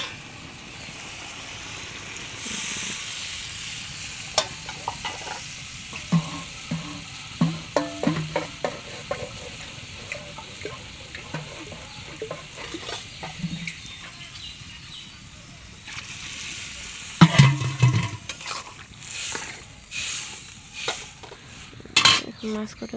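Bottle gourd sautéing with turmeric and coriander powder, a low steady sizzle under repeated scraping and clattering stirs of a spatula against the pan, close, with louder knocks toward the end.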